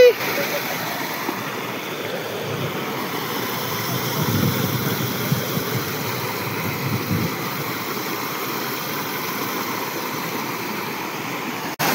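Rushing rainwater flowing in a waist-deep stream during monsoon rain, a steady broadband wash of water running continuously and close by, swelling slightly midway, with no voices over it.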